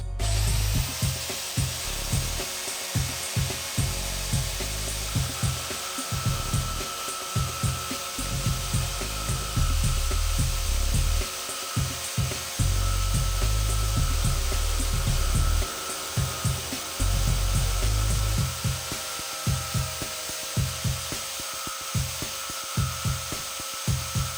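Power tool cutting through a universal axle shaft for a 1955 Ford Fairlane, a loud, continuous grinding whine broken by repeated short pauses and restarts, heard close and alone without voices.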